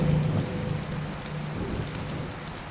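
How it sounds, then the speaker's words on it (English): Steady rain from an overlay effect laid onto a film scene, a continuous dense hiss of falling drops with a faint low rumble, filling the whole stretch at an even level with no voices. "add in an overlay of rain and a slight camera shake"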